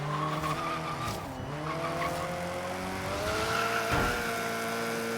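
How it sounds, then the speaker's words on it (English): Tires squealing as a car skids under hard braking in the racing game Forza Horizon 3, a loud sustained screech over engine drone, with the pitch sliding and dipping twice. "Hard brake, hard brake, hard brake,"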